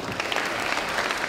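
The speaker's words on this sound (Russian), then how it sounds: "Аплодисменты." Audience applause at the final of a KVN comedy league contest on stage, a dense, steady wash of clapping filling the short stretch at full strength.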